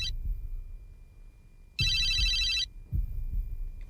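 A telephone bell rings in two loud, bright bursts of about a second each, separated by a pause, with low rumbling hum underneath and no talk.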